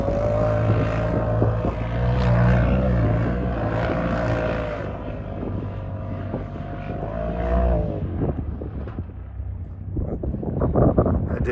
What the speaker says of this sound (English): we got a wind tunnel up here